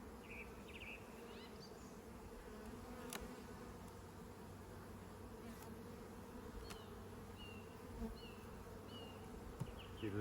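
Honey bees buzz steadily around a hive as a colony is moved from a nuc, a continuous low drone close by with a few brief higher insect passes; no one talks.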